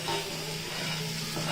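Chopped onions hit hot oil for a homemade biryani, giving a loud, continuous sizzle with a faint stirring texture and no voices.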